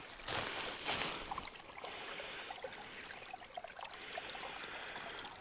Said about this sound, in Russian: Вот она, темная вода такая течет.